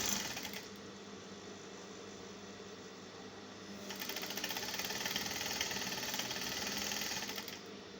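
A sewing machine stitching the side seams of a halterneck dress runs in two bursts of steady whirring, a short one at the start and a longer one later, with a softer mechanical hum between them.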